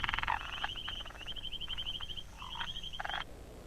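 Frogs calling in the rainy mating season: a chorus of rapid, rattling croaks and trills, several overlapping bursts at moderate distance over a low background hum, no speech.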